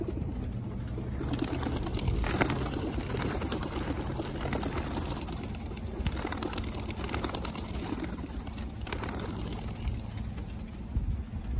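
Racing pigeons released during road training in Seguin, Texas, with a steady flutter of many wingbeats and scattered bird calls over continuous outdoor background noise, no talking.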